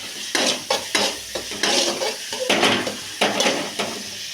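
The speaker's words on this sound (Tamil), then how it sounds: "அரிஞ்சு வச்சுருக்கிற வெங்காயத்தை நம்ம கொட்டிக்கலாம். வெங்காயத்தை நல்லா வதக்கிக்கலாம்." Onions sautéing in a pan with mustard seeds and cumin, a close steady sizzle broken by repeated scraping stir strokes against the pan at an uneven rhythm, with no talking.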